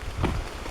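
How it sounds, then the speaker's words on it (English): Light rain falls along the Approach Trail, a soft, diffuse patter of drops lasting under a second. "Right now it's lightly raining."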